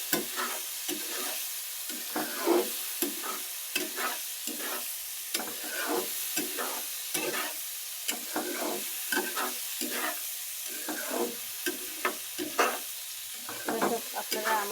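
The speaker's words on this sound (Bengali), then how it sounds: "আমি এইভাবে তেলে সুন্দর করে কষিয়ে নিয়ে রান্না করি।" Sweet pumpkin is stir-fried in oil under a steady sizzle, with repeated rhythmic scrapes of a spatula across the pan about once a second, up close.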